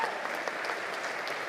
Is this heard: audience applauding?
yes